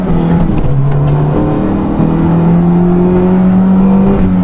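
A stock Fiat Palio 1.6 twin cam engine revs loudly and close, its pitch climbing steadily as the motor winds up with a smooth, sporty drone.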